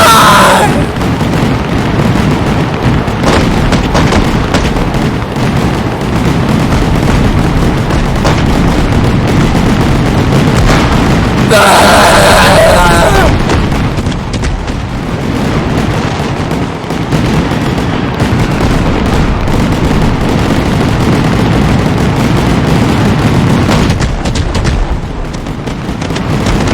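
Fireworks and explosions in the video game Firework Mania: a loud, continuous barrage of booms, bangs and crackling bursts, with a brighter crackling flurry midway, near and chaotic.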